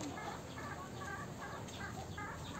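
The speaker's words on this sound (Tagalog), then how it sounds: "Daming manok." Chickens cluck faintly in the distance at a rural hillside home, a string of short repeated calls almost buried under a steady wash of background noise.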